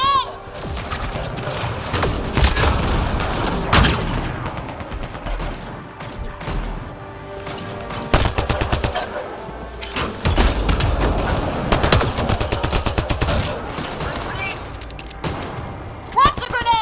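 Combat in the video game Mass Effect Andromeda, with a grenade explosion amid dense, continuous bursts of gunfire, crashes and heavy thumps that fill the whole stretch, and voices talking over the fighting.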